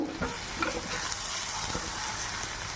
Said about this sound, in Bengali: জিরে গুঁড়ো, ধনে গুঁড়ো, এগুলো একটু মিক্স করে নেব।